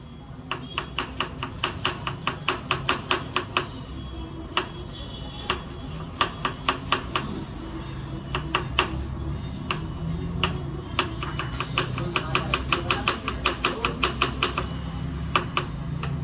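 Onions being chopped on a board with a knife, a fast run of sharp, close taps in uneven bursts over a steady low background rumble.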